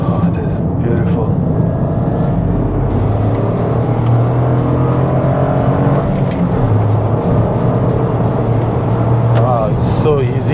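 A Toyota GR Corolla in 50-50 all-wheel-drive traction mode accelerates hard along a small road, its engine droning loudly up close while the driver talks over it.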